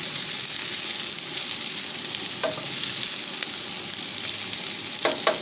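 Kielbasa sautéing in a lightly greased pan, an even bright sizzle running throughout, with a few stirring scrapes and clicks from a utensil near the end.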